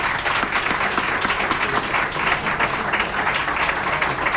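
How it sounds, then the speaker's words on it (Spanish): An audience gives a loud, sustained round of applause to welcome a guest, a dense, unbroken clatter of many hands clapping at close range. "por favor un aplauso para recibirlo"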